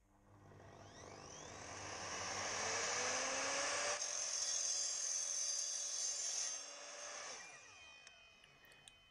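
A power saw cuts through tube with a 2 mm wall, its motor whine rising as the blade bites in, then holding a sustained harsh grinding rasp for several seconds before winding down and spinning off alone.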